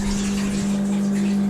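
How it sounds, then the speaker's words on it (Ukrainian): A washing machine's drain pump running with a steady, even hum and a faint watery rush, close and continuous, no speech. "а у вас помпа сама включается, помпа работает"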